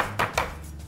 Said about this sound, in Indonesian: Nah, sekarang saya mau potong, mau geprek.